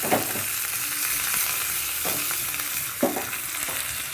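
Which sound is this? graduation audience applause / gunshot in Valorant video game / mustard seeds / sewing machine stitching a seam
mustard seeds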